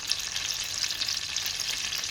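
Steady, crackling sizzle of about 50 grams of butter melting with oil in a pot for tomato rice pilaf, close and continuous with bright hissy texture and no talking.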